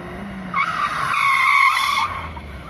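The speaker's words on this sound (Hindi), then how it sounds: "जब मैंने नॉन एबीएस ब्रेक अप्लाई की तो गाड़ी पूरी तरीके से स्किड होने लगी" A car skids under hard braking without ABS, giving a sustained tire squeal that rises and holds for about a second and a half over road and engine noise, loud and close, with no voices.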